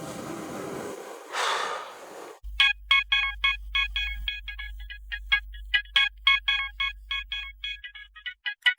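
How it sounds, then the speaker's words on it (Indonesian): A telephone rings in a repeated electronic ringtone pattern of short bright tones, loud and close, following a brief breathy gasp. "Telepon?"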